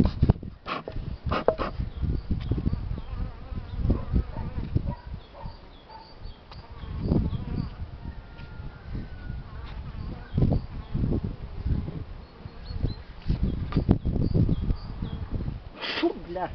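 Honey bees buzz around a hive during spring syrup feeding, a continuous close drone with individual bees zipping past, under intermittent speech.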